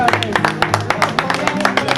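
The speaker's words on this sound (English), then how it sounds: "So give them a round of applause" Audience applause breaking out at a community charity gathering to honor a donation from a cleaning team, with rapid, fairly close claps forming a steady patter over a low background hum.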